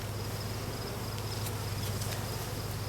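Honeybees swarm around a hive during an autumn hive check, making a steady, dense buzz that holds without a break and sits close to the listener, with no one speaking.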